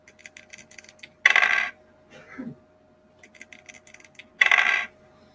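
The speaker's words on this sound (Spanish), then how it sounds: "además del audio que se escucha al momento de tirar los dados" Digital dice roll effects in a computer Ludo game, two bright rattling bursts about three seconds apart with soft clicks between them, the second burst matching the first.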